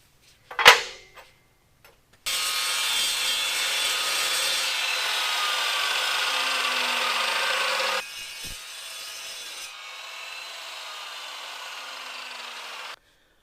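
Power cutting trims the center pieces of a Harbor Freight end-cabinet toolbox welding cart to width: a sharp knock, then a loud steady cutting whine for about six seconds, a brief dip and a quieter continuing cut before stopping.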